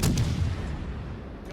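Enemy battleship secondary guns firing in World of Warships: Legends, with heavy booming cannon blasts and a rumbling roll that fades over the short span.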